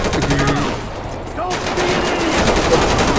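Automatic gunfire in Grand Theft Auto V story mode during a police shootout, loud rapid bursts with a brief lull in the middle before firing resumes, with game effects mixed in.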